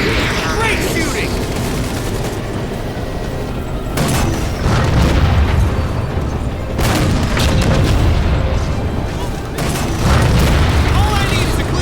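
Heavy gunfire and booming explosions from the Halo 4 video game, coming in repeated loud bursts with dense rapid shots between them and a voice speaking underneath.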